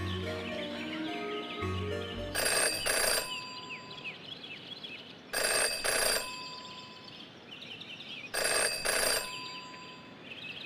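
An old-style telephone bell rings in the video game Jenny LeClue, three loud bursts of about a second each spaced a few seconds apart, over a background of music and chirping bird-like game ambience.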